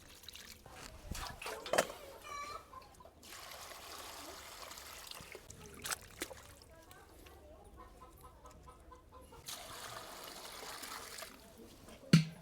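Water sloshes and splashes unevenly as something is rinsed by hand, with hens clucking in the background and a sharp knock near the end.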